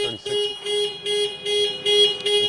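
Charge peak alarm on a Porsche Taycan facelift electric car at a fast charger, a loud, close, repeating electronic beeping tone in regular pulses with brief gaps.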